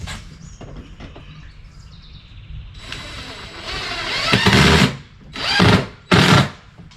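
A power drill drives screws into a screen door hinge: a short quiet whir, then three loud revving bursts that rise, stop and restart, with birds chirping faintly behind.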